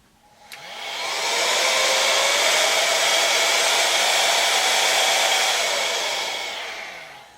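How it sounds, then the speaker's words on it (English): A miniature electric dust blower spinning at 120,000 RPM whirs up quickly to a loud, steady high-pitched whine, holds for several seconds, then tapers off slightly near the end. "It's a bit like a miniature hairdryer, except it comes with loads of different attachments, and this thing will spin at"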